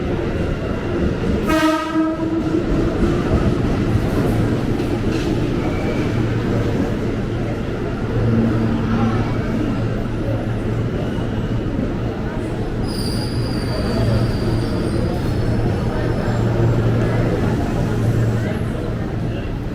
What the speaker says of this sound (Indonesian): ini dia akhirnya jalur 2 masuk komuter lain tujuan stasiun Cikarang